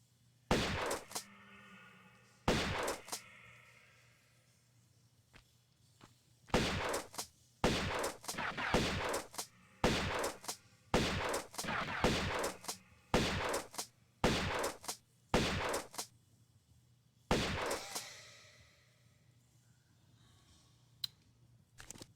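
Shotgun blasts in the Tomb Raider video game, a dozen or so loud, sharp booms fired singly and in quick bunches with short gaps and a longer lull, each followed by a brief decaying tail.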